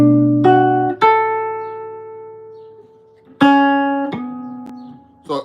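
A jazz tune played from a lead sheet on a guitar, a few sustained melody notes, each struck clearly and left to ring and decay over slow gaps, close and alone.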